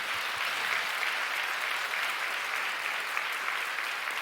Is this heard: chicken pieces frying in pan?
no